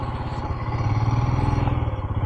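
A motorcycle engine idles steadily and close by, a continuous low rhythmic putter with no talk over it, after a long ride from Ladakh to Chandigarh.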